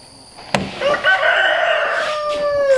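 A farmyard rooster crows loud and close, one long drawn-out cock-a-doodle-doo preceded by a sharp knock, with harmonic tones stretching over two seconds.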